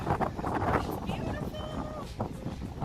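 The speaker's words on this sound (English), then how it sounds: "We are officially on the ferry, and we are up on the outside deck. It's a little bit windy" Wind gusts rush across the open outside deck of a ferry, a steady blustery roar with scattered voices talking in the background.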